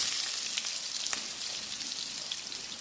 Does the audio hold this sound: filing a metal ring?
no